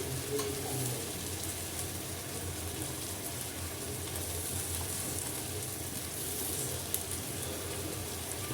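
Onion paste for a rohu fish curry frying in hot oil in a pan, a steady close hiss and crackle that holds evenly throughout with no talking.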